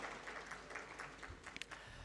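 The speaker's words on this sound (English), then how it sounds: "That does deserve a clap, actually." Audience applause at a regional inclusive justice symposium in South Asia, a faint, steady patter of many hands clapping that lasts about two seconds.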